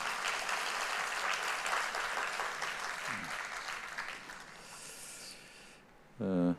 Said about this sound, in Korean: 우리 찬양대 감사함에 박수 한번 할까요?